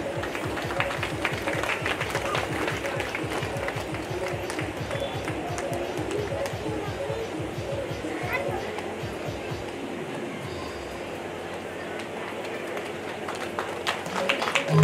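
Clapping from an audience at a Bhagwat Katha religious gathering, rapid rhythmic claps running steadily for most of the stretch, moderately loud, then thinning near the end.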